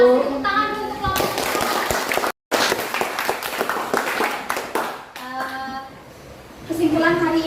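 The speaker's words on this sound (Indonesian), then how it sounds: "kasih tepuk tangan dulu untuk kelompok" Classroom students clap for a group that just presented on inflation, with a burst of many hands lasting several seconds, a brief gap, then renewed clapping under a teacher's voice.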